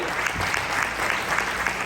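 An audience in a church applauds in a steady burst of clapping from many hands, dense and fairly near, lasting about two seconds.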